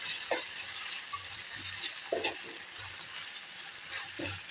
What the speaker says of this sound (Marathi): ही पण परतून घ्यायची त्यामध्ये.